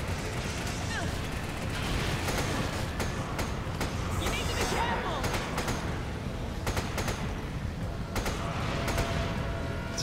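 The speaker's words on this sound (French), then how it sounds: "Je suis pas mécontent d'avoir changé mon pistolet contre une mitrailleuse." Rapid machine gun fire in Resident Evil 5 crackles in repeated bursts of sharp shots over dense combat noise, continuing throughout with a voice talking underneath.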